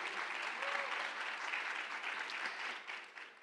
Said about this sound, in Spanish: Aplaudan para que la den.